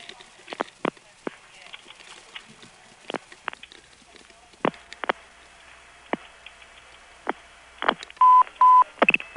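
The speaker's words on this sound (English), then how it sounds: "you hear a lot of Crossbar 5 tandeming noise on this call" On a 1978 call through a GTE NX2 crossbar exchange routed via two Crossbar 5 tandems, relays click and clunk sporadically as sharp isolated snaps over a quiet line, ending with a few short tone beeps.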